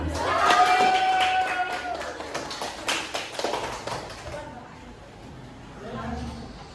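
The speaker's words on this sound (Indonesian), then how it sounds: "Tepuk tangan dulu buat Arista" A classroom of students claps for a classmate, brisk close clapping for about four seconds that then fades, with voices talking around it.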